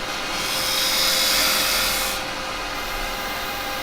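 A 9mm carbide tool cuts into a spinning workpiece on a woodturning lathe, producing a steady hissing scrape that swells in the middle and eases off, close and alone without talk.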